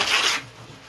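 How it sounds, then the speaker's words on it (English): Paper lining being swapped out in a snake enclosure, a short close rustling scrape that fades out within a second. "I'm gonna change this paper"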